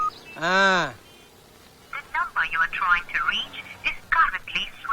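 A telephone in a Tamil film scene gives one short, loud electronic ring, then people talk over a quiet background.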